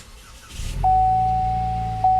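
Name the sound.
turbocharged four-cylinder car engine starting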